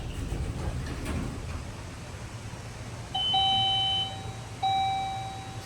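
Arrival chime of an MEI hydraulic elevator at a shopping and office square in The Woodlands, Texas, sounding two clear electronic tones about a second apart over quiet background hum.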